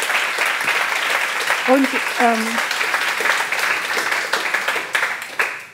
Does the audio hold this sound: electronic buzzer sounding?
no